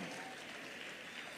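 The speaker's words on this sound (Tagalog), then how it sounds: "Sigurado ba yung palakpak nyo na yan?" A church congregation applauding during worship, a steady dense patter of clapping heard fairly faintly as a continuous wash.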